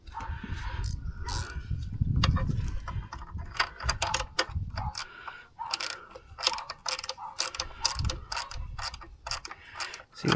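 Cut-down wrench ratcheting a nut loose, rapid steady clicking of the pawl in close, loud runs with brief pauses, alone without talk.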